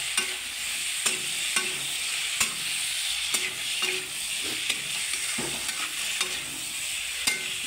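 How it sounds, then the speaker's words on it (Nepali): Masu gravy stirred in a hot pan: a continuous sizzle with rhythmic scrapes of the spoon against the pan at roughly half-second intervals, close and steady with no talk. "यसलाई अब एकछिन चलाइदिने, मिक्स गरिदिने पुरा"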